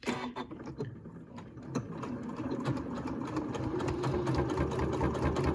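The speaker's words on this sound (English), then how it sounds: "So we're going to pull this back and just begin sewing." A sewing machine runs a wavy serpentine stitch onto quilt binding fed through a binder attachment, a steady, continuous mechanical whir that holds an even moderate speed close by, without any talk.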